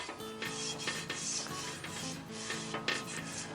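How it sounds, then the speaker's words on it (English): A small wire brush scrubs and swirls over a rusty cast iron griddle, giving a continuous close scratchy rasp with uneven strokes, steady and fairly quiet. "I'm just going to work it in with a little small wire brush. Just give it a little swirls"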